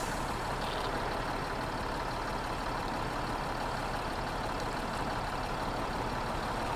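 A heavy truck in the Spintires MudRunner game runs at full throttle, its engine producing a dense, constant, loud roar that stays close and unbroken for the whole stretch.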